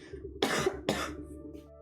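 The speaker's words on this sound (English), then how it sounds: "I'm going to do a little bit of a cough." Two sharp coughs close together, near and fairly loud, with quiet background hum in between and after.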